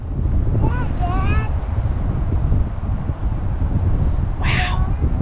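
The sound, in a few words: wind blowing through tree branches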